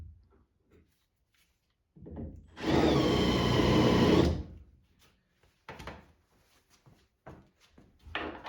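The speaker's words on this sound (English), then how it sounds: "Need to put a countersink on the outside here." A power drill cuts a countersink for a bolt in plywood while building a boat, one loud whirring burst lasting about a second and a half, framed by quiet handling knocks and clatter.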